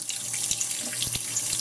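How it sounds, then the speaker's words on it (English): A kitchen tap runs a gentle, steady stream of water to rinse seeds pulled from chiles for homemade chipotles in adobo. The hiss is close and continuous, with no talking. "So we'll turn just a little water on and rinse these."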